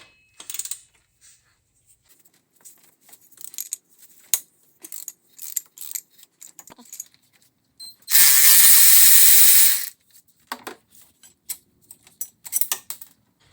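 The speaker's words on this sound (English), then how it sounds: "remove this 14 millimeter bolt down here. I have a deep socket 14 millimeter." A ratchet with a 14 mm deep socket backs out a bolt on a Toyota 2JZ engine, scattered close clicks and taps around a loud, continuous two-second burst of rapid ratcheting, with no talk.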